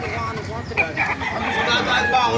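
Chickens and roosters at a live poultry market in Baliuag, Bulacan, clucking and crowing close by over a crowded background, with people talking nearby.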